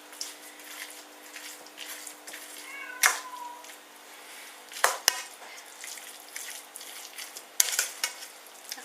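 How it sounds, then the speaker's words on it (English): A house cat meows a couple of times, short and fairly close, over faint kitchen clatter and the light sizzle of cooking while rice salad is being prepared, with no talk. "If you heard that cat, our cats are just a bit clingy."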